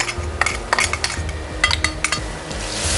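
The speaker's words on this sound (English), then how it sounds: "Give this a nice stir." A spoon clatters against a metal pot while stirring ground biryani masala with garam masala and nutmeg powder into a Thalassery chicken biryani, giving several sharp scrapes and clinks over a low background rumble.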